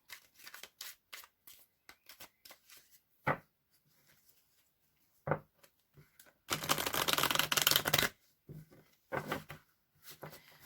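Tarot cards shuffled by hand, heard as bursts of rapid riffling and tapping, with one long dense riffle in the middle, close and fairly quiet, with no talking.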